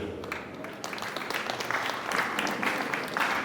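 Audience applause breaks out during a speech at the UNSA Debate Championship 2024, beginning thin and scattered, then building into steady, dense clapping from a sizeable crowd that holds for several seconds.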